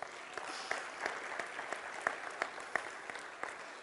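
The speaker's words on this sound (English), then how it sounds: "Give the Lord a hand clap for that." Church congregation giving a round of hand clapping during a Sunday service, steady applause at a moderate distance with sharper individual claps standing out, no talking.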